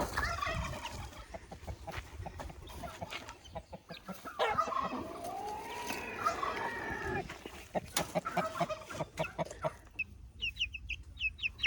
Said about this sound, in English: I think these two are the roosters.